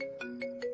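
A phone ringtone plays a short repeating electronic melody, several quick pulsing tones at moderate volume with nothing else audible.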